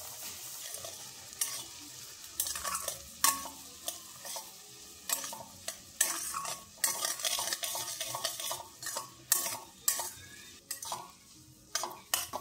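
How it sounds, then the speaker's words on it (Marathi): A spoon keeps scraping and stirring semolina as it roasts in ghee in a pan for suji halwa, making a steady, close clatter with no talk. "मंद आचेवर आपल्याला मिनिमम 3-4 मिनिट आपल्याला मस्त रवा सोनेरी कलर येईपर्यंत भाजून घ्यायचा आहे इथे"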